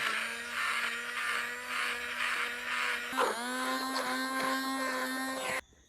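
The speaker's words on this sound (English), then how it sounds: "I don't know how to work this blender." A handheld electric blender runs steadily while mixing rum cake batter outdoors in Jamaica, a loud buzzing whine that dips and changes pitch partway through, then cuts off at the end.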